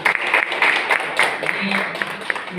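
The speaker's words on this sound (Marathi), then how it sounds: "जोरदार टाळ्या झाला पाहिजे." Applause at an award and felicitation ceremony, a crowd clapping steadily in a dense, rapid patter, with a voice speaking over the clapping.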